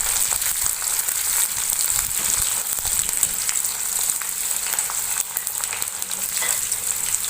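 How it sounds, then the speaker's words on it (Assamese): Onions frying in hot oil with bay leaf in a pan for chicken masala, a steady bright sizzle that runs on evenly throughout, close and alone with no voices. "পিয়াজখিনি গোল্ডেন হোৱালৈকে ভাজিব"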